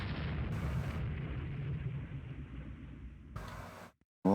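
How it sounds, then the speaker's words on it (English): Rumbling muffled explosions from torpedoes striking warships in Rule the Waves 2, a loud low roar that fades and then ends in a brief sharp burst. "As they take torpedo after torpedo after torpedo."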